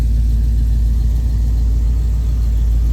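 A Ford 460 engine runs steadily close by, a loud low rumble with a constant even drone and no change in revs over the few seconds.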